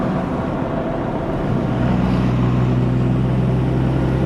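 A manual-transmission Cummins diesel truck driving, with a loud, continuous low engine drone and road rumble that shifts in pitch partway through as the clutch engages, and no talk.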